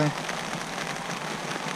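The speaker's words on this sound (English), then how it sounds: "I hope this real fine drizzle stops, because it's getting everything soaked" Fine drizzle falling beside a river, a soft, even hiss of light rain that stays steady and close for a brief moment, with no other sounds standing out.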